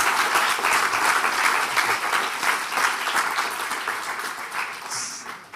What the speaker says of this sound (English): A big round of applause for our speaker